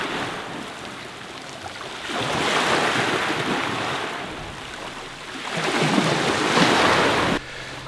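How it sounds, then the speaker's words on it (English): Waves lap against a rocky shore at sunrise on a Corfu beach, surging in two broad, rushing swells that rise and fall, with light wind buffeting the microphone in between. "the waves are just lapping against the shore"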